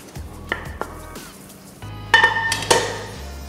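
Kam heong squid is stirred in a pan, with a spoon or spatula clinking and scraping against metal in uneven knocks over a faint sizzle. The clinks grow louder toward the end, and no one talks.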